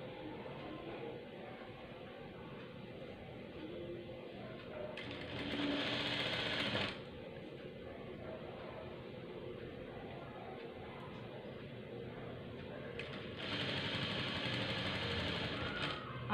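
Sewing machine stitching piping onto a saree, running in two bursts of steady rapid whirring and clatter separated by a quieter stretch, fairly close, with no talking.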